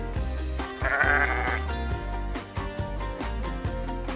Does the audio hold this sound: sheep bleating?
yes